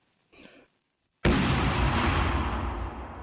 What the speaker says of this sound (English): those usually create some big explosions